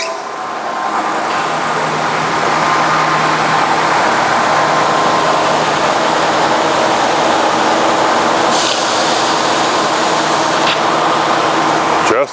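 A refurbished model 480 horizontal bandsaw runs through a demonstration cut, producing a loud, steady mechanical hum and grinding whine that continues without a break.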